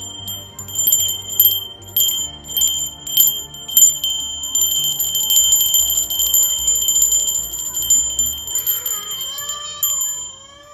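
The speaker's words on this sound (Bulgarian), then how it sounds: "Как бият камбаните, чувате ли?" Bells ring out repeatedly with bright, sustained metallic tones, a steady clanging peal under faint background voices.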